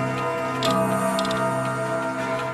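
Many clocks ticking together in a clock collector's shop, from cheap Chinese alarm clocks to grandfather clocks, a dense steady layered ticking with faint sharper clicks, close and continuous with no voices.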